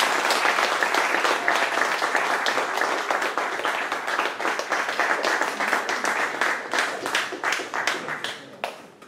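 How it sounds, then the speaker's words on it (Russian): Audience applause at a wedding blessing ceremony in Yalta: a loud, dense crowd clapping that starts full and gradually thins toward the end, with individual claps becoming more distinct as it fades over about nine seconds. "Ваши аплодисменты."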